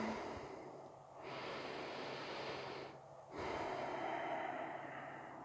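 Slow, audible breaths during a seated yoga stretch for runners, two long hissing inhale-exhale cycles separated by short quiet pauses, close and fairly soft with no talking.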